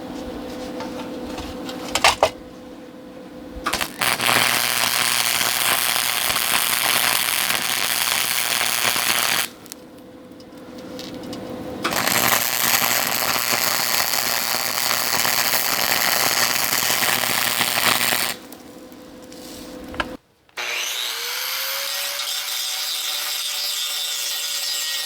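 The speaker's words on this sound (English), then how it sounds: "I'm just going to put a little bzz, bzz, stitch weld on there, grind it down" Buzzing stitch welds on a metal plate on a Cub Cadet, followed by grinding, in long steady runs broken by brief pauses, close and fairly loud with no talk.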